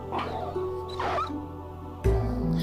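A dog in the Resident Evil 4 remake built in Minecraft gives a few sharp yelping barks and whines, close and loud over a steady game hum, with a heavier thud near the end.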